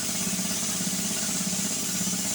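A gas engine air compressor idles steadily while compressed air hisses out of its tank in a continuous broadband rush, the engine's low throb running underneath throughout.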